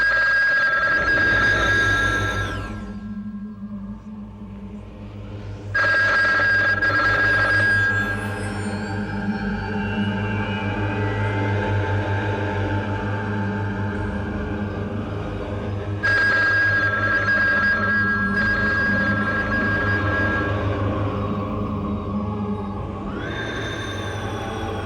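A telephone rings in a tense horror TV drama scene, in long sustained bursts separated by short gaps, over a low, brooding musical drone.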